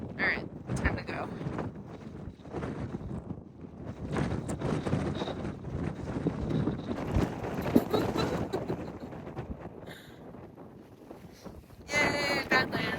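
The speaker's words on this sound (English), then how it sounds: "This wind about to blow me off this cliff." Strong wind at a Badlands cliff roars and buffets the microphone in uneven gusts, close and loud throughout, with a person talking over it.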